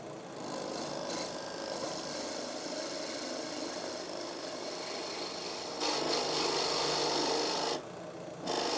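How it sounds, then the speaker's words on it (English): Sanding the bottom of a turned wooden bowl held on a drill press gives a steady, close rasping hiss that runs throughout, briefly growing louder and rougher for a couple of seconds near the end. "Going to finish off the sanding on the bottom of this bottom of the bowl here"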